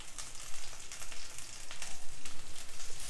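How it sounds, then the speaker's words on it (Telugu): Onions and green chillies frying in a pan on the stove, a steady close sizzle with crackling bursts throughout and no voices. "ఉల్లిపాయలు కొంచెం వేగినాక సరిపడినన్ని పచ్చిమిర్చి తరుక్కొని వేసుకోవాలి"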